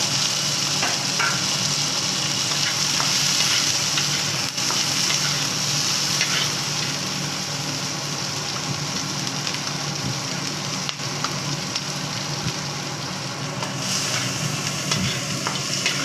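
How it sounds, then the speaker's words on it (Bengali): Raw onion and green chilli frying in a pan of oil as they are stirred, a steady close sizzle and crackle with faint scraping from the stirring throughout. "হালকা ভাজতে হালকা রং আসার পর কুমড়োটাকে আমাদের ছেড়ে দিতে হবে।"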